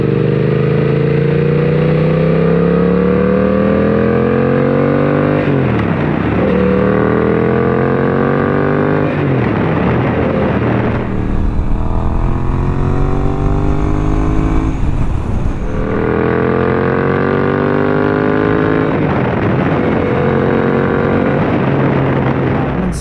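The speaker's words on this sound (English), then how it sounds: "I'm manually shifting through the gears right now." A 2024 Suzuki GSX-8S motorcycle with an M4 exhaust revs hard and loud, rising through several manual gear shifts with brief dips between pulls, close by and with no talk over it.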